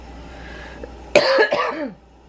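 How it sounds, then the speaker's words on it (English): A single harsh, wet cough bursting out in two or three quick chesty pulses, close and loud against a quiet room. "This cough just feels like so much stuff wants to come out and can't"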